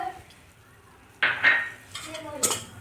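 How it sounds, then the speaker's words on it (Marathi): Spoon stirring milk powder into walnut halwa in a metal pan, a few close scraping and clinking strokes against the pan with short pauses between them. "दूध पावडर मिक्स करणार आहोत"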